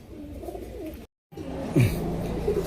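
Caged pigeons give a low coo or two and a brief rustle, close by, across a short moment broken by a split-second gap of silence.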